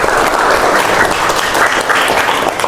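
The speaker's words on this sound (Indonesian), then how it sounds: "tepuk tangan untuk kalian semua" A classroom of students claps together in steady, dense applause that stays loud and continuous throughout, with no talking over it.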